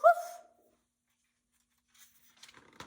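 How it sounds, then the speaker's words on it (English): A dog gives one short, clear bark at the very start. Near silence follows, with faint rustles toward the end. "he barked, woof,"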